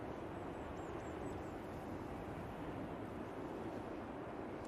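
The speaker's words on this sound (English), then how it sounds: "I do have a plane on finals" An airplane on final approach at Manchester Airport, a steady broadband roar with wind buffeting the microphone, continuous and fairly even throughout.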